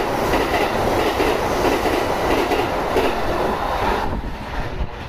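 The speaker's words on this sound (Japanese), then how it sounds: "今から来るやつは多分火の鳥だと思うんですけど、大阪難波方面の特急です" A Kintetsu limited express train, the Hinotori, pulling into a station bound for Osaka Namba, its loud rolling rumble and wheel clatter filling the platform steadily before easing slightly at the end.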